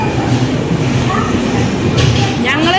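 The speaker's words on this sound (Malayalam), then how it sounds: "അപ്പൊ ചേച്ചി വന്ന ട്രെയിൻ ഇതാ പോയിക്കൊണ്ടിരിക്കുന്നു" A Kanyakumari to Bangalore express train pulls out of a station. It makes a short, close, steady rolling rumble with faint higher squeals.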